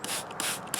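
Water sprayed in short misty bursts onto seed starting mix blended with biochar, three quick hissing puffs in close succession, near and fairly soft with no voices.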